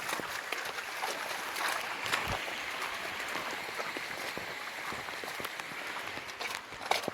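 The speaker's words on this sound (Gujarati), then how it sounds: "ધીમે ધીમે વરસાદ ચાલુ થયો છે" Light rain begins falling on Girnar hill near Junagadh, a steady soft patter with scattered sharper drop taps over a continuous wash of noise.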